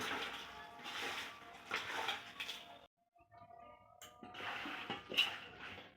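Raw chicken for dum biryani being pressed and mixed with spices in a pot, moist squelching and scraping in uneven bursts with a short pause, close but fairly quiet, no talking.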